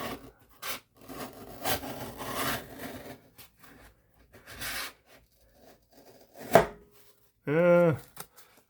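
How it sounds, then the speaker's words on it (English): A Swiss Tech Stahlern fixed blade knife rasps and scrapes through a thick cardboard box flap in several short strokes, close and moderately loud with pauses between, ending in a brief sharper tearing sound. "I just cut this flap off the box."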